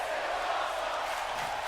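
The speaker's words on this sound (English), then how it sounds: "the crowd are even louder than before" A loud, steady roar from a wrestling video game crowd, a continuous wash of cheering with no breaks over the short stretch.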